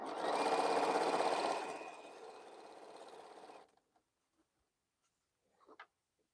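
A sewing machine stitching quilt fabric runs in a fast, loud whirring burst that slows and softens before stopping, followed by near silence and a faint clink.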